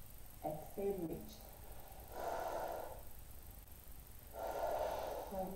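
Someone breathes slowly and audibly through a stretch, one long exhale followed a few seconds later by another, with a short stretch of voice just before them.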